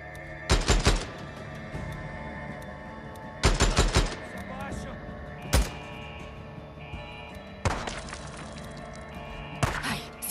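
Gunfire in Days Gone comes as sharp bursts of rapid automatic shots in four or five clusters, each followed by single reports, ringing out over a steady game ambience.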